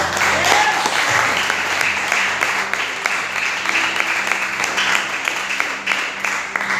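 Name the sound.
congregation applauding loudly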